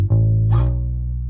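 Guitar plays two notes, G then A, the second slid into with the little finger, ringing close and clear and sustaining as they fade gently.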